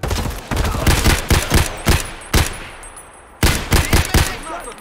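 Gunfire from Escape from Tarkov in several loud, close bursts of rapid shots. A short lull about two-thirds of the way through is followed by another volley.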